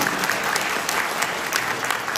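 Audience members at a provincial governor's town-hall dialogue in Jeju clap together, a dense, even burst of applause with sharp individual claps standing out, sustained and fairly close throughout.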